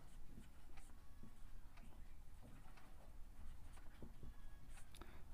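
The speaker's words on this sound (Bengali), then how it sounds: "তো আমরা প্রদত্ত লিখছি।" Pen scratching steadily across paper, writing out a Class 10 geometry proof about a rhombus by hand, with irregular ticks and strokes over a soft constant background hiss, close and continuous with no talk.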